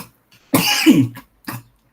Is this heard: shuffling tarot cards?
no